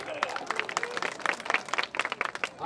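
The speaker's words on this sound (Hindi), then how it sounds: "अरे ऐसी तालियों की गड़गड़ाहट होनी चाहिए कि मोदी जी और योगी जी के कान में सुनाई पड़े।" A crowd at a political rally bursts into dense, sustained clapping, many hands close and loud in quick irregular bursts that continue without pause throughout.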